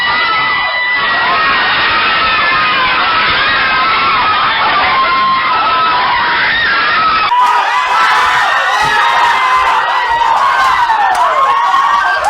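A large crowd cheers, shouts and whoops loudly and continuously in reaction to the Pacquiao versus Hatton boxing match, a dense roar of many voices that swells brighter partway through.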